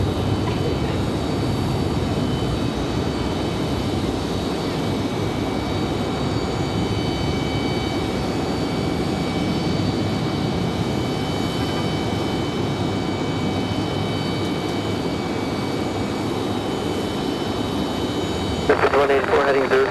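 A CRJ regional jet departing a busy airport sends up a steady, loud broadband roar that holds level throughout, with a brief sharper burst near the end and voices faintly present underneath.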